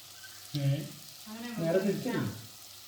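Tomatoes added to onions sizzle and sauté in a pan, a soft, steady frying hiss close by, with a voice talking over it in brief stretches.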